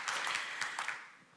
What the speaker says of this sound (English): I think we can give applause for that